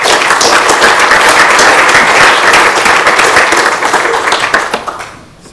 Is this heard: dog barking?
no